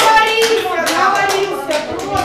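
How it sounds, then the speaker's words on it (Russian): Clapping from a crowd gathered outside a courtroom, uneven hand claps mixed with raised voices and chatter close by. "Громкими аплодисментами сегодня провожают у зала суда потерпевшего"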